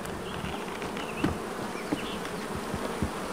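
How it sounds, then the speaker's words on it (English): Honeybees buzz steadily around stacked hive boxes, a dense insect hum filling the air with a few louder passes near the listener. "Let the bees work their way back up."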